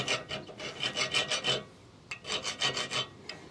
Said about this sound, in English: run it across your threads. And it just cleans out those marks on the bolts.